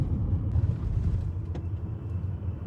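A car rolls over a road in a steady low rumble heard from inside, continuous and fairly loud for a few seconds with no voices.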